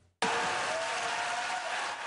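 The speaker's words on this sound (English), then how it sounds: "Roaring applause on the floor of the U.S. Senate" After a brief quiet moment, applause breaks out suddenly on the floor of the U.S. Senate after the confirmation vote, a broad, steady wash of clapping from a large room.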